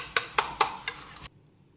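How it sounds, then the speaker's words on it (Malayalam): A spoon scraping and clinking against a pan while half a cup of sugar is stirred until it melts, four sharp knocks in quick succession at close range, then silence. "പഞ്ചസാര നന്നായിട്ട് മെൽറ്റാണ് വരെ ഇളക്കണം."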